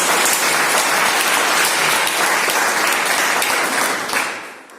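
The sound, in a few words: audience applause for a business rank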